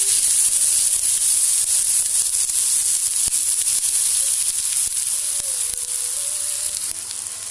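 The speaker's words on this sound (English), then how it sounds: "have to put the onions, the chopped onions into it. Oh, that sounds so good" Chopped onions frying in a pan, a steady loud sizzle with bright hissing crackle throughout, close and continuous, no talking.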